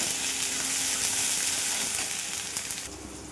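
Salt, Kashmiri chili powder and a little cumin powder hiss and sizzle in hot oil, a dense and steady crackle close by, easing slightly toward the end.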